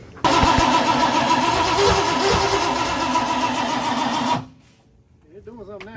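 A 408W stroker V8 with a solid roller cam and 12.5:1 compression starts for the first time, cranking briefly and then roaring loudly up close for about four seconds before cutting off, followed by excited voices.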